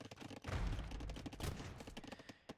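Hand cannons fire in a medieval strategy game battle, a rapid fusillade of overlapping cracking shots sounding distant and fairly faint, with no talk.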